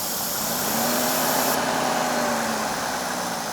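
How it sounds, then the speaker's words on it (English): A Cadillac engine with a misfire idles steadily with a continuous low rumble and hiss, its tone staying even and smooth throughout, no voices present. "Watch the engine smooth out."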